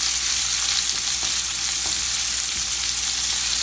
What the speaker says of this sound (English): All we're doing is searing the shrimp.